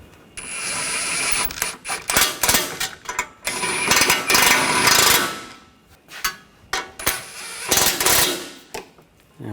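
Bolts being snugged down on the intercooler of a 2013-2022 Buick Encore 1.4L: close, irregular metallic clicks and ratcheting bursts with short pauses, no talking.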